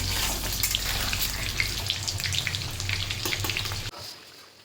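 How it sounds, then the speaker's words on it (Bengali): Cut potatoes frying in hot oil for biryani, a dense, steady sizzle with faint stirring that cuts off abruptly near the end, leaving a quieter hiss. "প্রথমে কেটে রাখা আলুগুলো ফ্রাই করে নিই"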